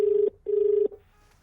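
A telephone rings in two steady electronic bursts, each just under half a second long with a short gap between them, loud and clear, and then the line goes quiet.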